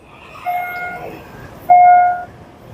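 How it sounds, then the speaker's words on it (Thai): Two long electronic tones ring out at a railway level crossing on Bang Khun Thian road in Bang Bon, the second louder and nearer, over faint background noise. "อยู่ที่ถนนบางคูณเทียน จุดตัดรถไฟ บางบอน"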